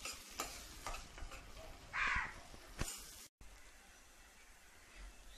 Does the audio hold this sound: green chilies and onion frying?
yes